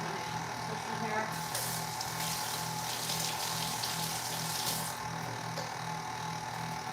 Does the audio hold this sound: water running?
yes